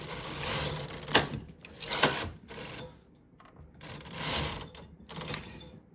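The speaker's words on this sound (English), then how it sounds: "Push all the needles to working position and knit 2 rows." A knitting machine carriage sweeps across twice for two rows of a lace pattern, each pass a loud mechanical whirring rattle with clicks, separated by a brief pause.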